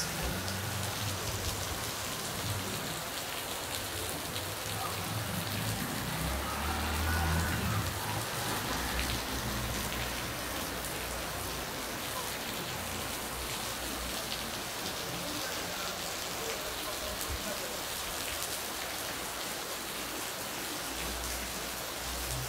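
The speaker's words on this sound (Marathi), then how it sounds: "संध्याकाळी भरपूर असा पाऊस आहे बघा." Heavy evening rain pours down in Solapur district, a steady, dense hiss of drops on surfaces that holds constant throughout with no voices.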